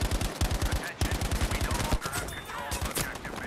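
Rapid bursts of automatic rifle fire from Battlefield 5 multiplayer on Wake Island, a steady rattling stream that pauses briefly and resumes, mixed with more distant gunshots and game effects.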